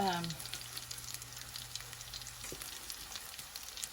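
Samoan sausages (sosisi) frying in about three tablespoons of vegetable oil while being turned over, a soft steady sizzle close by with a faint tonal hum fading at the start and a light knock midway.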